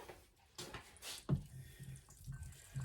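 Tinned food being rinsed under a running kitchen tap, a close, uneven splashing of water with bursts and gurgles as the flow hits the contents, while a voice talks over part of it.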